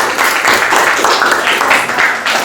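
A classroom gives a group's class presentation a round of steady applause, dense clapping from many hands held at an even level for a couple of seconds.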